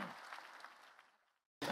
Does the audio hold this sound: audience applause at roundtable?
yes